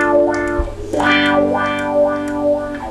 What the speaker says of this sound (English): a pedal on the floor, and you rock it backwards and forwards and it creates this sound that goes wah wah wah wah